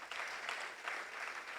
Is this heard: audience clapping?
yes